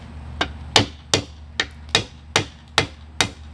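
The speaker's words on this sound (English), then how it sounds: "Looky there, more forge welding." A hammer beats hot steel on an anvil while forge welding a machete made from a lawn mower blade, eight sharp ringing strikes in a steady rhythm about every half second, close and clear.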